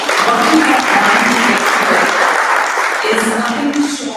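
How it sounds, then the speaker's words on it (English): Loud, dense applause from a room of internship graduates at a welcome reception, steady throughout with crowd noise and a few voices mixed in. "give yourselves a round of applause"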